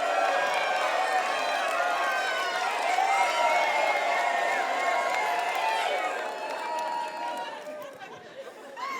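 A church congregation shouts and chatters together like an excited crowd, a loud, dense wash of many voices that holds steady, then thins and fades toward the end.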